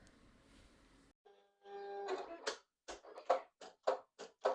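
A Silhouette cutting machine set to force 33, speed 3 and blade depth 7 starts a cut. A faint hum gives way to quiet, rhythmic bursts of mechanical whirring as the carriage moves.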